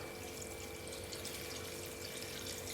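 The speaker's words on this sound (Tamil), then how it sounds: "இப்போ இது மூழ்கிற அளவுக்கு தண்ணி ஊற்றிடலாம்." Water is poured over a bowl of little millet (samai) noodles, making a faint, quiet, steady trickling splash close by.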